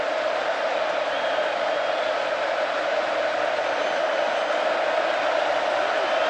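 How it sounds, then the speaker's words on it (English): Loud, steady roar of a packed stadium crowd at an Alabama Crimson Tide vs Texas A&M Aggies college football game, a continuous dense wall of noise with no breaks. "Crowd making it difficult again for the Alabama quarterback and front wall."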